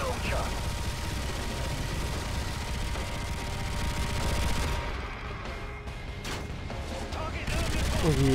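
Gunfire in the Call of Duty MW3 video game, steady dense shooting and mechanical weapon noise running throughout, with a brief lull midway before the shots build again.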